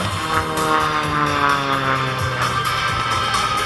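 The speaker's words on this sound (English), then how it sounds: "Jim Pikes and the F-33 Aerobatic Bonanza" An F-33 Bonanza aerobatic airplane passes overhead at an air show, its propeller engine giving a loud sustained drone with a shifting pitch.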